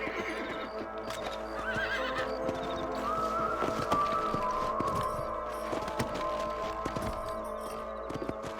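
Horses whinny and neigh over steady clip-clopping hooves in Red Dead Redemption, with a busy layered game soundtrack behind; no talking.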